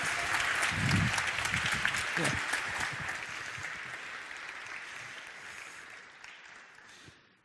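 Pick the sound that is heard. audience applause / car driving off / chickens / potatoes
audience applause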